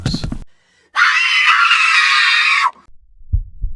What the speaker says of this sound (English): Jen screams.